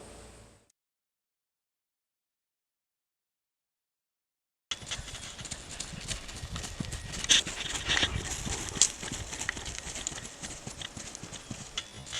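Icelandic horse moving in a smooth tolt, its hooves clopping in a quick, steady four-beat rhythm on firm ground, loud and close, after a stretch of near silence at the start.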